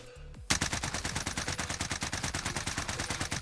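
Fully automatic Cold War AK fire in Warzone, a long, rapid, evenly spaced burst of loud, close gunshots that runs without pause after a short quiet start.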